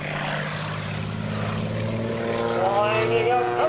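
The Samson aerobatic propeller airplane at an airshow drones loudly and steadily and swells louder as it comes around. An announcer speaks over the engine noise.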